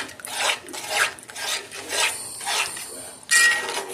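A spoon scrapes and rasps through Italian sausage sauce in a pot as granulated garlic is stirred in, giving repeated close, gritty stirring strokes in an uneven rhythm.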